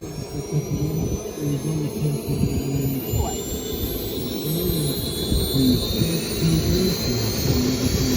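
Large-scale model jet Cougars flying a four-ship formation at an outdoor airshow, a steady loud turbine whine and roar sustained throughout, with a constant low hum beneath.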